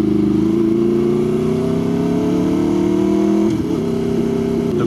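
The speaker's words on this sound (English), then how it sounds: "Ducati 899. Love that bike." A Ducati 899 sport motorcycle engine revs hard and close, its loud, rough drone climbing steadily in pitch before the throttle cuts and the note breaks off near the end.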